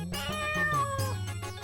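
A cat gives one loud, drawn-out meow close by, its pitch wavering and falling, with no voices around it.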